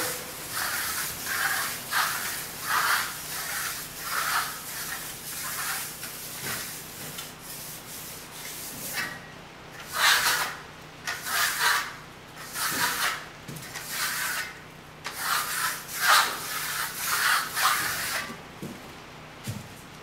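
A steel trowel burnishes an American Clay plaster wall in repeated close rubbing and scraping strokes, each swelling and fading in an uneven rhythm for about twenty seconds.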